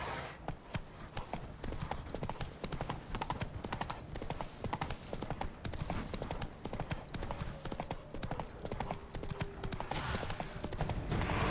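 Roach, the horse in The Witcher 3, trots with steady, continuous hoof clip-clops across the whole stretch, fairly close and busy, with game ambience and a faint whinny-like tone mixed in.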